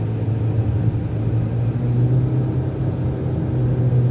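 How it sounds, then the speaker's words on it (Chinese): A Mitsubishi Lancer at full throttle on the Dapeng Bay race track, heard as a loud, steady engine drone and rumble from inside the car, sustained without a break and without talk. "好，油门踩到底，出发。"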